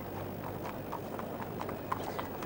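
Racehorse hooves clip-clop steadily on the ground in the paddock at the 1983 Cheltenham Gold Cup, a regular, fairly faint rhythm of hoof beats over a constant low background hum.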